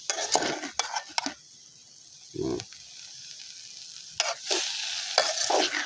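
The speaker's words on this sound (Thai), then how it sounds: "ผัดเนื้อแห้ง สุดท้ายเนี่ยเราจะใส่หอมปอบหอมบัวเนาะ" Dried meat is stir-fried in a pan: short bursts of sizzling and scraping from a spatula alternate with quieter pauses, and a brief vocal sound appears midway.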